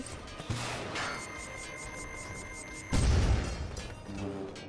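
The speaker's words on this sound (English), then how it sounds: "Oh, watch out for the explosions." Explosions in the LEGO Batman 2 DC Super Heroes video game: a dense game soundscape with a heavy low boom bursting in near the middle, then lighter rumbling, with no talk.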